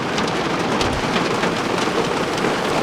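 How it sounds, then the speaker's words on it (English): Heavy rain mixed with hail drums steadily on a car's roof and windows during a storm near Golden, Colorado, a dense, constant close patter with sharper clicks of hailstones scattered throughout. "Yep, that's hail in my car."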